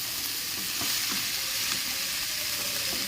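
Food sautéing in a hot pan for a home-cooked Bengali dinner, with a steady loud sizzle broken by soft scraping stirs, no voices.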